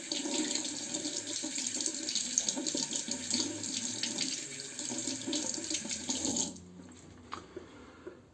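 Tap water running over a Merkur Progress safety razor being rinsed at a sink, a steady close splashing hiss lasting several seconds before the flow cuts off, followed by a few faint drips and small clicks.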